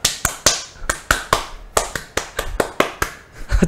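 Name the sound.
Indonesian scout clap (tepuk pramuka)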